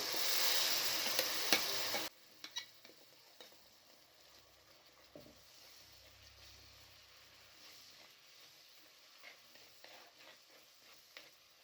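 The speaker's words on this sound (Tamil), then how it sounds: "வறுத்து அரைச்ச தக்காளி வெங்காயம் பேஸ்ட்டு சேர்த்துக்கிறேன்." A roasted tomato and onion paste meeting hot masala for a sardine curry: a loud burst of hiss at first that cuts off abruptly, followed by faint, scattered crackles and light stirring scrapes.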